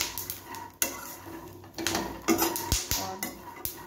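A sesame mixture for til ladoo is stirred in a pan, with repeated scraping and clinking of a utensil against metal in an irregular rhythm, close and clear over a faint sizzle, with no talking.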